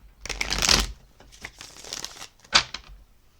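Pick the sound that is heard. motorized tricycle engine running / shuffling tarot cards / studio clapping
shuffling tarot cards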